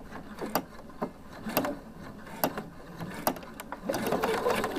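A sewing machine stitches a seam, starting with a short backstitch: quick bursts of close mechanical clatter at a regular pace, then a longer continuous run near the end, with no talking.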